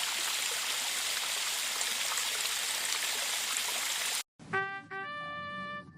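Cartoon bath water splashing and trickling, a steady bright watery wash that cuts off abruptly, followed by a short musical tone sequence.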